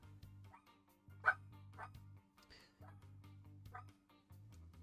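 A dog barks several times in short, scattered yaps in the background, faint against a steady low engine-like hum.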